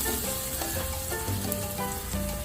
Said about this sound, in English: I have added 2 tablespoons of oil, to which I will be adding the finely chopped onions